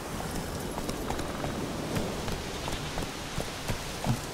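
Horse hooves clip-clop steadily while riding through the open world of The Witcher 3, a continuous galloping patter over rain-like ambient noise, with no talk.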